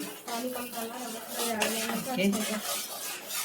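A metal spoon stirring semolina into boiling salted water for upma in a pot, close scraping and clinking against the pan in a steady rhythm while a voice talks over it.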